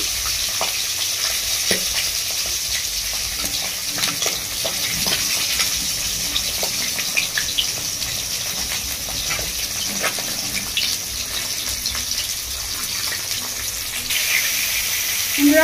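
Rohu fish head frying in hot oil, a loud close continuous sizzle with crackles and spits across the whole stretch, occasional stirring scrapes, and a sharper burst at the very end.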